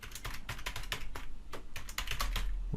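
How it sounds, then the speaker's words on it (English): Fingers type steadily on a computer keyboard, rapid close key clicks in an uneven rhythm with no speech over them. "So we'll type in"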